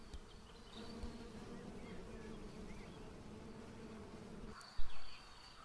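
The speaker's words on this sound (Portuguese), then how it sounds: "esses são os mirins que o pai havia falado. São umas abelhas pequenininhas que vivem nas árvores." Small mirim bees, tiny tree-dwelling bees, hum in a soft, continuous drone over several seconds, faint and steady, ending with a brief louder thump.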